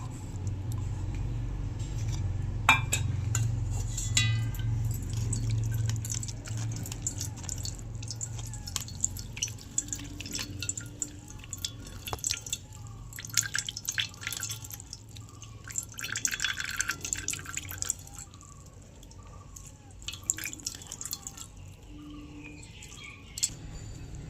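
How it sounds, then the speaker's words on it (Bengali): Homemade almond milk dripping through a strainer, an irregular series of small drips and trickles over a soft low background rumble, faint and fairly close, with no voices. "চেকনিতে নিয়ে বাদামের দুধটা ভালো করে বের করে নেব"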